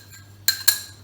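Two sharp clinks of a utensil against a bowl as cornstarch and sugar are mixed for a lemon strawberry cake, separated by a short pause over a quiet steady hum.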